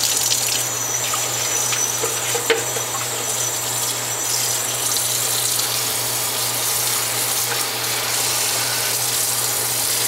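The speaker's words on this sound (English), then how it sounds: "we're going to turn on the tap and rinse the yarn out" A kitchen sink tap runs steadily as dyed wool yarn is rinsed under it, a constant close gush of water with a faint low hum underneath and no talking.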